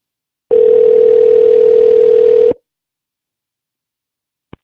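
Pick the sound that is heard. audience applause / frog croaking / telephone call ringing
telephone call ringing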